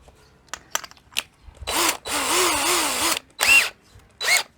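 A power screwdriver spins a sharpening stone against a lawnmower blade in several bursts, a longer steady whirring grind in the middle, preceded by a few sharp taps and clicks.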